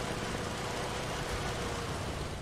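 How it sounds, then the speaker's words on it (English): Steady, loud rumbling drone of the M4A1 tank's 460 horsepower radial engine in War Thunder, a continuous unbroken roar with no talking over it. "I'm just going to turn down this engine sound because it sounds way too loud for me."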